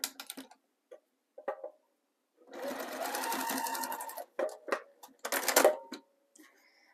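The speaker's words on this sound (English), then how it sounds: "now I'm going to top stitch right over it" A sewing machine top stitching a candy wrapper zipper pouch, with short stitching bursts, one longer steady run, then more brief runs and small clicks in a quiet room.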